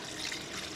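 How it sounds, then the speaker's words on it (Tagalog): A short, steady rush of water pouring into a cooking pot of seasoned broth, broadband and continuous, close and fairly loud. "Lagyan na po natin ng tubig"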